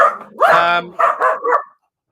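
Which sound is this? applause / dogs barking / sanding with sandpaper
dogs barking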